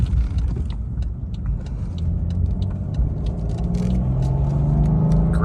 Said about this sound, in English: Great acceleration.